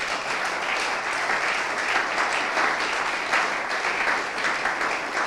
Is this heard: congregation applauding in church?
yes